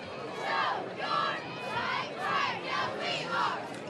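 A large high school football crowd at a night game roars and cheers in repeated swelling waves, loud and continuous, with distant voices blending into the din.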